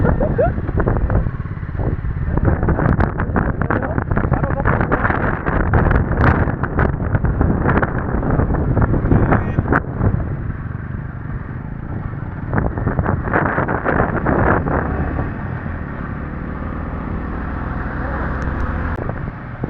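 Strong wind roars and buffets the microphone continuously on a motorbike ride toward Chikmagalur, with the rumble of the moving bike underneath and a person talking over it.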